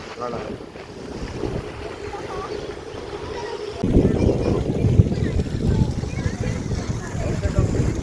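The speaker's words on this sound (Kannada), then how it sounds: "ಗಾಳಿ ನೋಡಿ ಹೆಂಗ್ ಬರ್ತೈತಿ ಇಲ್ಲಿ" Strong wind buffets the microphone outdoors beside water in Lalbagh garden. A steady roar grows louder halfway through, with voices talking faintly under it.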